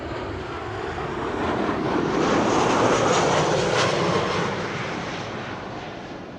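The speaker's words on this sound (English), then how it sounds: "arriving from Dublin in Ireland, flight 3006" A passenger jet arriving at Amsterdam Schiphol from Dublin, a broad engine roar that builds, peaks loud overhead, and then eases off, with no one speaking.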